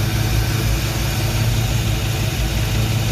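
A 1979 Chevy C20 truck engine runs at a steady fast idle around 2,000 RPM during cam break-in, a loud, constant, close-up drone without pauses or voices.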